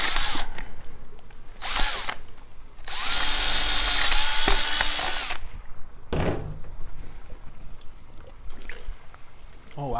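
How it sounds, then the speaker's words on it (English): A power drill bores into the eyes of a whole coconut, giving loud whining bursts in two short spells and one long run of about three seconds, with thuds and handling noise between them. "I'm gonna go ahead and drill out the eyes of the coconut"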